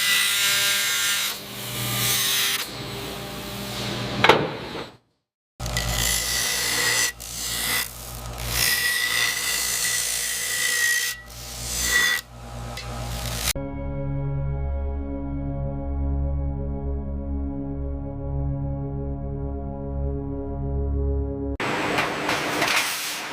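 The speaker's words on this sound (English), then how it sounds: "The precision of the CNC machine is unmatched, trimming the excess material with surgical accuracy." Machining trims excess metal in an electric pressure cooker factory with loud, close rasping and grinding passes broken by short gaps, then a steady tonal machine hum takes over.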